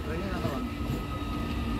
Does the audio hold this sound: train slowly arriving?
yes